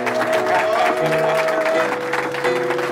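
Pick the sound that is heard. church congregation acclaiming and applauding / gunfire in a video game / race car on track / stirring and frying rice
church congregation acclaiming and applauding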